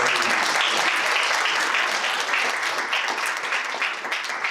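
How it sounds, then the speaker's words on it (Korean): Attendees at a Korean commemoration ceremony for the Cheongsanri battle anniversary give a steady, moderately loud round of applause, many hands clapping evenly with no voices over it. "한 분 한 분 소개 올릴 때마다 박수로 환영해 주시면 감사하겠습니다."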